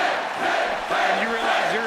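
Crowd cheering in the WWE 2K19 video game at a SummerSlam pay-per-view event, a steady roar of arena voices with shouts rising over it, sustained and loud throughout.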